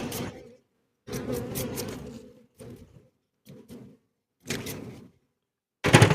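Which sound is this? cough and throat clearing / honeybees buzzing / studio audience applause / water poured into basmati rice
honeybees buzzing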